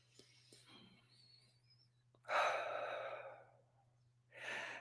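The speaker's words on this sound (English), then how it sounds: "brave breath in and out." A deep breath drawn in and released during a guided love meditation, heard close and soft as a long airy exhale, followed by the start of another breath.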